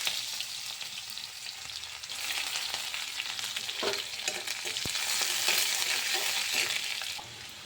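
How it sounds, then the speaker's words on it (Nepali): Vegetables sizzling in oil left over from frying fulaura, for Achhami phando, a steady loud crackle with a few metallic clinks from stirring, and no voices. "म चाहिँ यही फुलौरा पकाएको तेलमा तरकारी पकाउँछु।"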